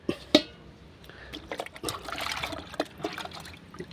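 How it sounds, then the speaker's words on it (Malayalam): Half a litre of rice-water inoculum solution is poured onto a compost heap of dry leaves, giving a soft, uneven trickle and splash that rises and falls. A sharp knock comes near the start. "അര ലിറ്റർ നമ്മുടെ ഇപ്പോൾ ഉണ്ടാക്കി വെച്ച് ഇനോക്കുലം കഞ്ഞിവെള്ളം ലായിനി ഒഴിച്ചു കൊടുക്കുന്നു"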